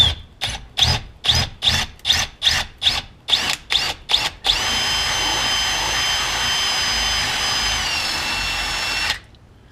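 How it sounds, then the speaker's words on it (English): An electric drill reboring an old hole on a John Deere L130 mower starts and stops in a quick series of about a dozen short bursts, then runs continuously with a high, steady whine before cutting off. "we got the drill out here, so we're going to go ahead and center this up"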